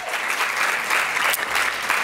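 An audience claps together in sustained applause, a dense patter of many hands filling the room, steady and fairly close, with a faint murmur of voices beneath.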